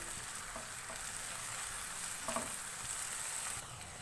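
Soy sauce mixture fries in a pan over a medium flame, giving a steady, even sizzle throughout with brief stirring scrapes, no voices.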